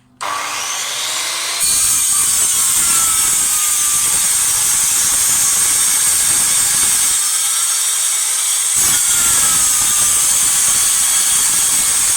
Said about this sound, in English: Generally, most blades on circular saws cut upwards.